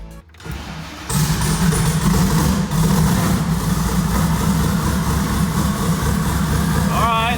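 A car engine with a flex-fuel setup cranks briefly, catches and settles into a steady, loud idle after a tune fix, rumbling evenly close by, with a short chirp near the end.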